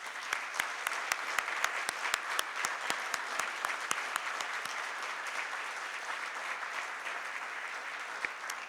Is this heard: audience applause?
yes